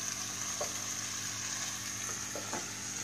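Chicken with onions and green chili frying in a pan for a lemon pepper chicken dish, a steady close sizzle with a few soft scrapes of stirring, no voices.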